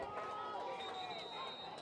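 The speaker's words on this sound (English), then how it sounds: "Both sides are cheering loud right here." Football crowd at a varsity game against Lake City, both sides cheering loudly in a steady dense roar of voices with no single voice standing out.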